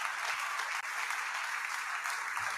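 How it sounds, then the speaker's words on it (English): A steady wash of audience applause with dense clapping, moderately loud and continuous for a few seconds, with no talk over it. "So applause for Angel."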